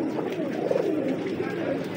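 Pigeons coo steadily in a close, continuous murmur of low, throaty, overlapping calls.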